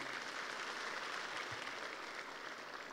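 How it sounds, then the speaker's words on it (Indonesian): Seminar audience applauding steadily in an indoor hall, a continuous even wash of clapping heard from a moderate distance and fairly faint throughout. "Tepuk tangan untuk Anda semua Bapak Ibu."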